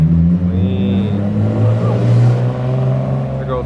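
Supercharged BMW E46 passing at a large Los Angeles car meet, its engine a loud steady drone close by, blended with crowd chatter and other idling cars throughout.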